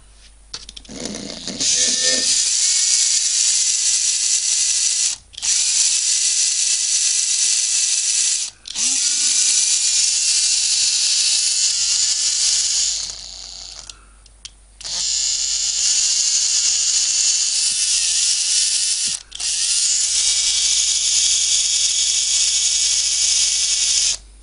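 A Makita cordless screwdriver with freshly repaired motor brushes whirs at high pitch in loud, sustained bursts, stopping and restarting about five times with brief pauses between runs.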